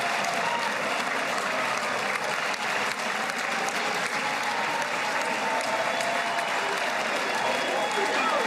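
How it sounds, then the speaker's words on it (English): Steady, dense applause from a large audience, sustained at an even level for the whole stretch, with a faint crowd murmur mixed in. "They all clap for the corruption."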